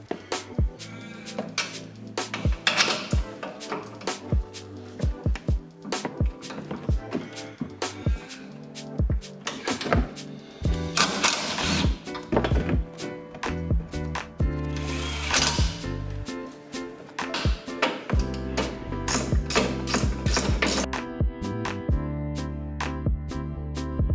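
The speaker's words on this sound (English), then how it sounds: "we're going to undo the three nuts on the top of the strut" Ratchet socket tools crank off the three top nuts of a strut on a Nissan NP300 independent front suspension during a lift kit install, giving dense bursts of rapid clicking ratchet pawl sounds with metallic clanks, close and loud, with no talk.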